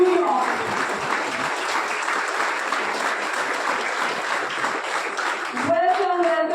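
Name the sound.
audience applause, standing ovation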